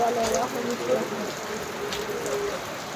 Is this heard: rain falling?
yes